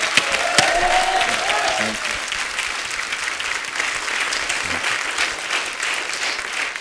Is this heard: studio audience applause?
yes